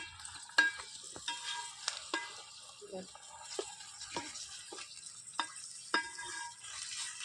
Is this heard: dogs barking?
no